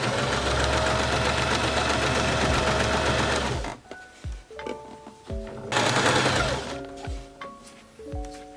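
Sewing machine stitching a second parallel row of running stitches on dress fabric, a loud steady whir for several seconds, stopping, then a second short burst with light clicks and handling between.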